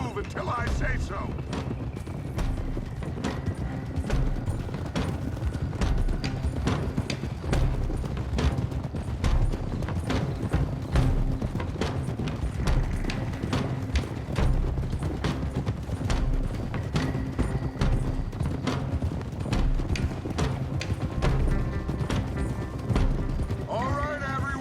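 Horses gallop in Red Dead Redemption 2, a steady run of hoof clip-clops under game sound and dialogue, with a brief whinny near the end.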